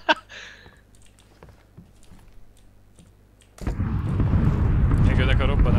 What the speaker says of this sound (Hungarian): Megjönnek a robbanások.